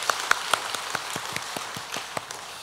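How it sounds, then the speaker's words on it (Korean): Applause from a church congregation at a Sunday worship service, heard as a run of sharp, scattered claps fairly close by that rises and thins out over a few seconds. No voices can be heard. "우리 어둠을 제거하고 빛으로 오신 우리 예수님께 감사 박수 올려드리겠습니다"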